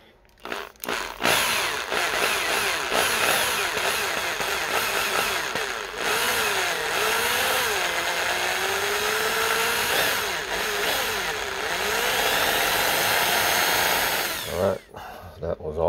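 A small power drill bores into a die-cast toy car body for a wheel swap, a loud continuous whine that shifts pitch as the bit bites, stopping briefly near the start and end.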